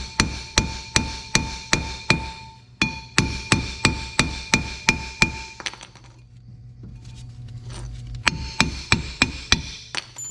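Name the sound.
hammer taps loosening Honda Civic rear brake drum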